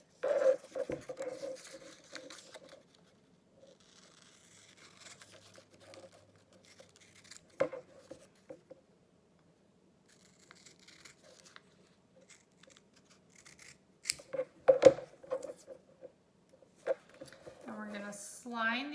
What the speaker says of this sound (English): we're just going to cut out the center section.